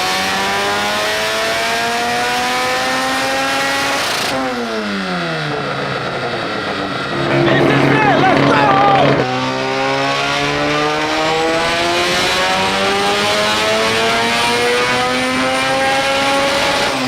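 A rotary-swapped Mazda Miata engine revs very loudly on a dyno inside a shop, repeatedly climbing and dropping in pitch, then a sustained hard pull to high revs before settling again.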